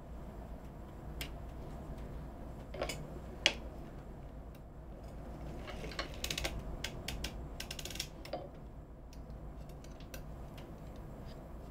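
A circular sock knitting machine being worked on a heel of handpainted socks, giving scattered soft mechanical clicks and ratcheting ticks, with a few sharper snaps, close and fairly quiet over a steady low hum.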